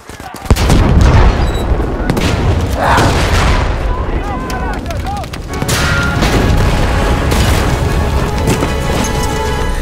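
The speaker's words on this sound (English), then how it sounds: "that's because my bombs went off" Battlefield 5 bombs exploding in a wartime game battle: a loud boom opens, followed by sustained rumbling blasts and crackling gunfire under shouted voices throughout.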